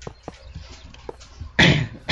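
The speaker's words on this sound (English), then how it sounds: "Sorry, I've been coughing lately." A few soft coughs, then two loud, harsh coughs close to the mic, the second cut off at the end.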